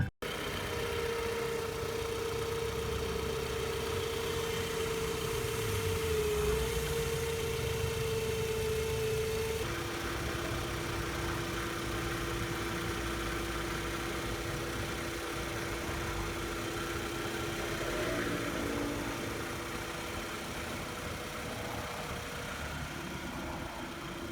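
A Toyota Camry ACV40 engine idles close by with a steady hum. A prominent whining howl, like a failing bearing, is heard at first and then eases to a quieter, smoother running note after the repair.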